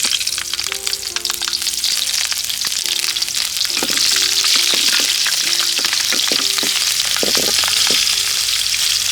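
Green chillies sizzle and crackle in hot oil in a pan, a dense, loud, continuous frying hiss with sharper pops and stirring clinks scattered through it.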